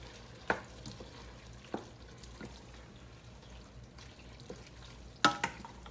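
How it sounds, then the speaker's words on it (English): A spoon stirs stewed tomato into a pot of homemade chili with a faint simmering sizzle, punctuated by a few sharp clinks and scrapes against the pot, quiet and close with no talking. "And give that a stir, guys."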